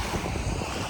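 Sea waves wash in at Martil beach in northern Morocco, a loud broadband rush of surf mixed with gusty wind buffeting the microphone, heard up close for a brief moment.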